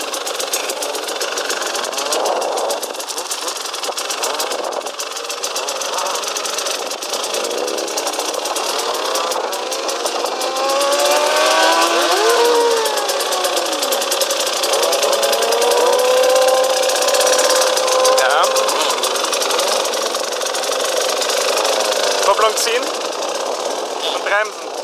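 A KTM EXC 300 motorcycle engine idles steadily throughout, its note rising and falling slightly as it is revved gently, with voices talking over it during a riding lesson.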